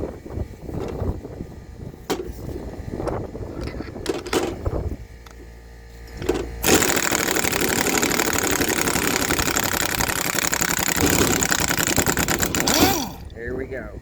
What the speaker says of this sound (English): I'm gonna have to let the air compressor build back up.